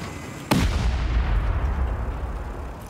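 A C4 charge blows during a base raid in a survival video game, heard as one sharp loud boom followed by a rolling low rumble that slowly fades.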